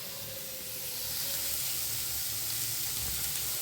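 Ash gourd pieces sizzle and fry in a pan, a steady close hiss of hot oil running throughout with faint scraping underneath and no voices.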